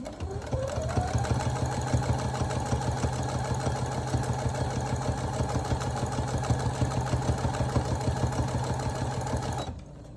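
A sewing machine stitching a burrito pillowcase runs steadily for about nine seconds, a close, even, rapid mechanical chatter that stops abruptly at the end, with no talking.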